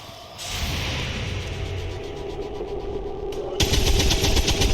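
Rapid automatic weapon fire in a tactical squad video game, a continuous loud burst of shots with engine-like rumble underneath that intensifies near the end.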